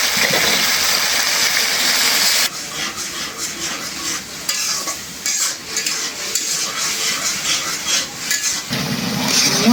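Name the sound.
water poured into frying red lentils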